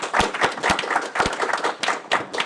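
A live audience at an evening event claps in a round of applause, a fairly sparse scatter of sharp hand claps with clear individual slaps rather than a dense roar, moderately close.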